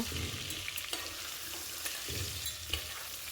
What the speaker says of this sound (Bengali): এখানে আমি সর্ষের তেল গরম করতে দিয়েছিলাম আলু গাছেরটাকে ভেজে নেব